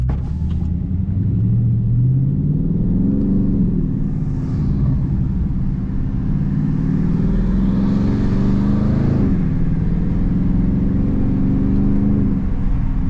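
Dodge Charger Daytona 392 V8 accelerating through the gears in manual paddle-shift mode, a loud steady engine drone close up whose pitch climbs, dips at each shift and climbs again throughout.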